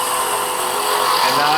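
A woodturning tool cuts into a spinning wooden Christmas ornament on a lathe, giving a steady, close, high-pitched hiss throughout.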